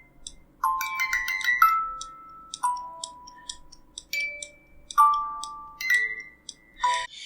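Small music box resting on a table so the tabletop resonates, plucking clear, bright metallic notes one at a time, sparse and ringing, with faint mechanical ticks between tones in a quiet room.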